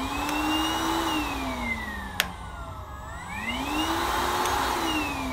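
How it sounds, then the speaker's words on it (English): A backpack vacuum cleaner runs on its low setting with a steady close whine whose pitch slowly rises and falls, and a single sharp click partway through. "We have these backpack vacuum cleaners right here that has a switch that mounts at your hip"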